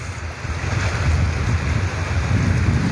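Sea waves wash and slap against a moving boat, a dense, continuous rush of water close by, mixed with wind buffeting.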